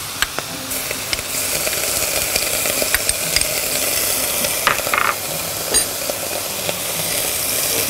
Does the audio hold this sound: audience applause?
no